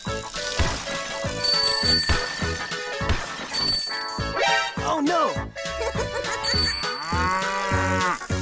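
A cartoon cow moos over busy, bright music with bell-like chimes, about mid-clip, in a lively children's game setting.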